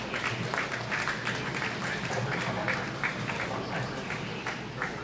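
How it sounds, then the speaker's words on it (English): Spectators at a bowling tournament, the Team USA Trials, clap steadily throughout, a dense, even patter of applause filling the hall with a faint background murmur. "Spectators, a round of applause for our bowlers meeting in day 2."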